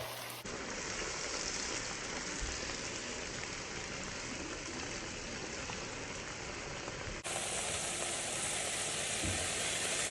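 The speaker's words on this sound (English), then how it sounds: "Put the steaks on, and they smell so motherfucking good. So now I'm just basically cooking them." Steaks frying in a hot pan give off a steady, dense sizzle and crackle, close and fairly loud, continuous throughout with a brief jump in brightness partway through; no one talks.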